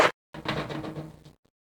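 A door swings open in the video game Resident Evil HD Remastered, a drawn-out creaking and scraping lasting about a second, loud and alone after a brief silence.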